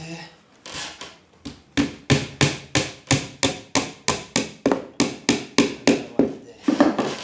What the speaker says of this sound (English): after knocking my panel pins,